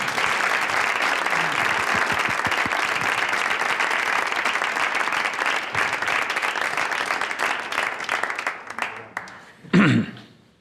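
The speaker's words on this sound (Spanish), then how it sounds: "Un aplauso a José Ángel." An audience in a hall applauds a teacher named José Ángel with a full, steady round of clapping that thins out near the end, followed by a brief voice and a throat clearing.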